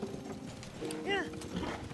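Horse hooves clip-clop in Zelda: Tears of the Kingdom, a steady rhythmic gait heard over in-game ambience and a brief whinny-like tonal call, fairly close and moderately loud.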